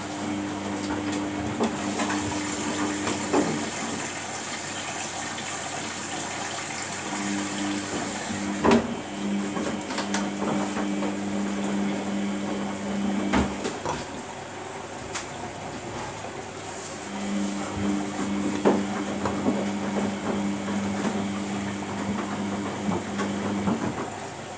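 A Samsung WF80F5E0W4W washing machine on its final rinse with softener, a steady mechanical hum with water sloshing, periodic motor whines and occasional clunks, no voices.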